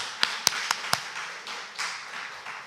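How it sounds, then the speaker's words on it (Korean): Church congregation at a Sunday morning service clapping to welcome visitors, with a few sharp isolated claps followed by softer scattered applause, faint and brief. "우리 박수로 한번 환영하겠습니다."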